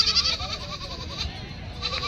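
Local village goats bleat repeatedly nearby at a goat market in Vasmat, Hingoli, India, wavering cries over a low murmur of background noise in a busy outdoor setting.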